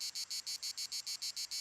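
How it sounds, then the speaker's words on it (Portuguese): Cicadas calling outdoors on a warm day, a rhythmic pulsing buzz repeating about every sixth of a second in evenly spaced bursts, moderately loud and alone with no other sounds. "De aparência bizarra, as cigarras fazem-se ouvir a centenas de metros."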